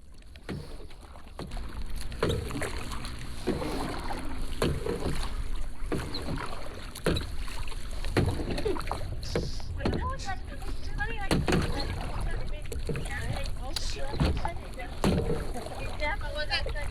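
Paddle strokes splash and knock against a kayak in a steady rhythm on Mirror Lake, Lake Placid, with water sloshing, wind buffeting, and occasional voices nearby.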